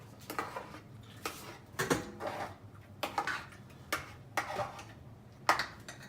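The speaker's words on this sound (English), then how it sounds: "Give it a nice stir." Biryani being stirred in a cooking pot with a metal spoon, sharp clanks and scrapes arriving in an uneven rhythm, close and fairly quiet, with no voice over them.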